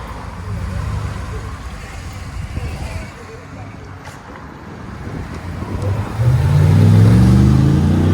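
A 2020 Chevy Silverado pickup's 6.6L gas V8 with a Magnaflow exhaust idles with wind buffeting the microphone, then revs up into a loud, deep exhaust roar near the end.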